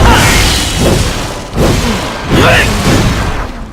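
Several heavy booms from the video game Vindictus erupt one after another, loud and rumbling, each decaying into a dense roar.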